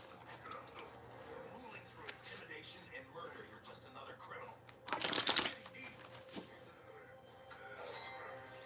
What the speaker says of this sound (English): I'll pull from the note cards.